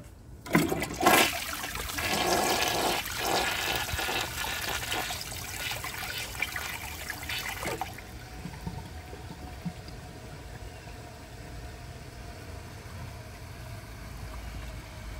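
A 1995 ADA Mansfield Alto toilet flushes with a loud rushing surge that roars for several seconds, then cuts off abruptly into a quiet, steady trickle and hiss of refilling water.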